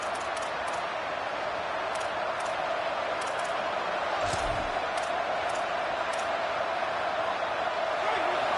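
Stadium crowd roaring at a college football game in a video game, LSU on defense early in the second quarter; a steady, dense, loud wash of crowd noise throughout with a few faint ticks and a brief thump near the middle.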